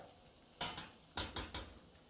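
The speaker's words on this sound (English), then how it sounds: "I'm going to stir the corn syrup into the sugar and wait for the sugar to burn" A spoon stirs corn syrup into sugar in a pot, making five short scraping strokes in two quick groups against a quiet background, close by and with no talking.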